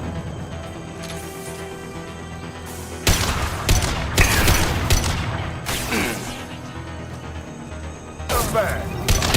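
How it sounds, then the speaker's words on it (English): Concussive shots and gunfire from the video game Mass Effect 2 burst out in several loud, clustered volleys over a low hum of background noise, with a voice speaking in between. "Firing concussive shots!"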